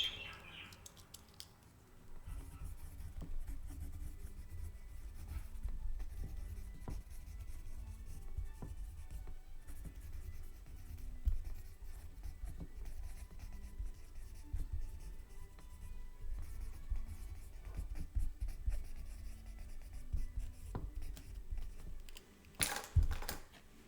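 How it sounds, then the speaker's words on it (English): Handwriting on paper, close and faint, a long run of soft scratchy pen strokes with brief pauses and a sharper knock near the end, no talk. "I'm gonna write that down so I don't forget."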